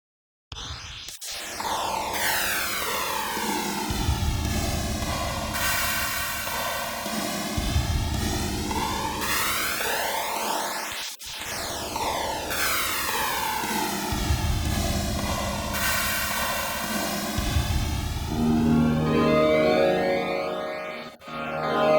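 A delay effect driven by a low-frequency oscillator swings two buffers to opposite delay values, producing a slow, repeating jet-like sweep over a loud sustained sound that cycles roughly every ten seconds, with no voices.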